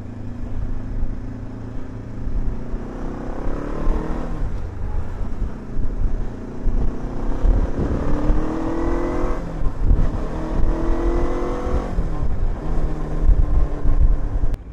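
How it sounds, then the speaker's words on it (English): Zongshen Cyclone RX3s motorcycle engine revving steadily and close, pitch rising and falling through several throttle sweeps over a continuous running drone, with no talking. "The engine is very responsive."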